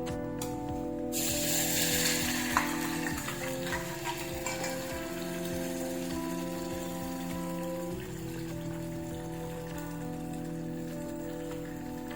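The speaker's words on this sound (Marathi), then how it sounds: "तेल चांगलं गरम होऊन द्यायचं आणि त्यानंतर हे यामध्ये टाकून द्यायचे" Tomato chutney ingredients sizzle in hot oil for a momo sauce, a steady crackling fry with soft ticking pops and clinks, close and moderately quiet with no talk.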